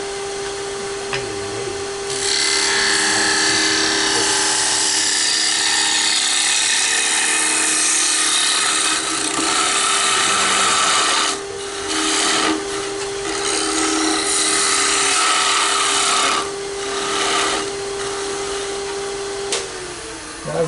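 A power drill whines loudly as it bores into wood, a long sustained grind with brief pauses and shifts in pitch, close up.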